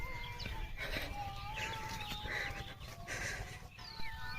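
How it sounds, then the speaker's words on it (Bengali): Chickens at a chicken farm cluck and chirp at moderate distance over a steady outdoor rumble, with scattered short calls and a few higher squawks throughout. "ফাইনালি আমরা পাইছি মুরগি ফার্ম সামনে আছে"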